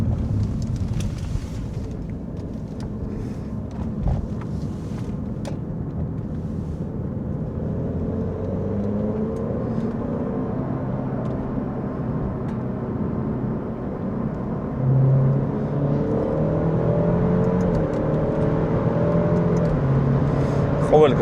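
An Alfa Romeo Giulia's engine sounds from inside the cabin, a steady drone that climbs and drops as the car pulls through its gears, with a person talking over it throughout.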